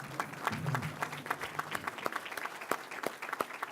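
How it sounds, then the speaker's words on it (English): Guests at an NAACP Freedom Fund banquet in Carroll County rise for a standing ovation, with sparse, fairly distant clapping and distinct individual hand claps over a low room murmur and a brief low voice early on. "I want you all to stand and give her a real round of applause for the work they have done here in Carroll County"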